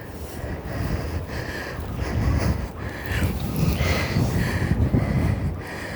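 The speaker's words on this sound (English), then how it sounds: "The wind is fighting me with my gimbal." Wind buffets a handheld camera's microphone on a walk through Halifax, Canada, after a snowstorm, a loud, continuous low rumble that swells and eases in gusts.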